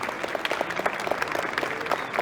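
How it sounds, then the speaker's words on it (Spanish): Audience applause after a talk on sector and regional risk in credit analysis, a close, steady patter of many hands clapping that holds through the whole moment. "Más fuerte el aplauso por esta explicación tan clara"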